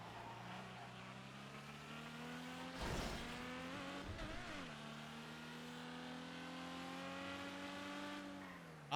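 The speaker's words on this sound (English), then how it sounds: "Honestly, compared to other engines, this is pretty quiet." A quiet car engine in GTA V on the NoPixel roleplay server, a manual-transmission car holding a steady, smooth hum with a brief rev surge and a dip as it shifts, then settling back to an even drone.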